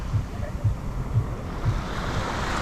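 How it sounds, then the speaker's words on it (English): Ocean waves breaking on a beach in Bali, a loud continuous surf roar with repeated low surges roughly every half second, heavy wind rumble on the microphone, no voices. "The waves are just relentless, coming back again and again and again."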